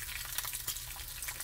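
Bacon frying in a cast iron pan gives a faint, steady crackle and sizzle with small popping spatters, heard up close and alone.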